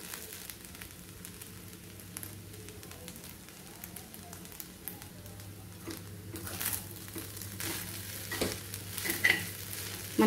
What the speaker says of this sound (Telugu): మనం వేసిన ఉప్పు అంత కలిసేలాగా ఇలా బాగా కలుపుకోవాలి